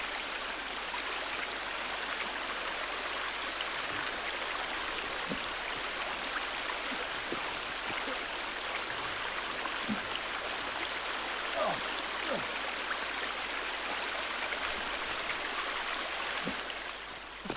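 Flowing stream water in the survival video game The Forest, a steady broadband rush that continues unbroken throughout, with faint occasional clicks and no clear talk.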